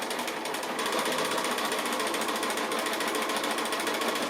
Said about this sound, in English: So I've got my 2 opposite corners stitched on now, right on the diagonal line that I drew there.